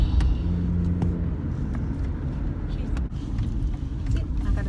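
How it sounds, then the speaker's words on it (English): A car driving, heard from inside the cabin: a steady, loud low road rumble and engine drone with no breaks throughout. "So we're in the car driving"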